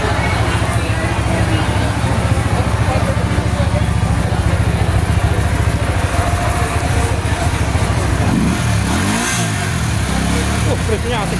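A Keeway Benda V252C cruiser motorcycle's fuel-injected engine starts and runs with a steady mid-pitched drone and a couple of revs near the end, close by, while someone talks over it.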